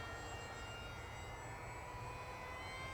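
Small electric motor of an ESKY Eagles 1100mm RC plane whines steadily in flight, a faint, distant, even drone with no talk.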